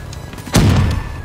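A single loud gunshot booms up close in a shooter video game, with a short decaying rumble after it and faint game noise before.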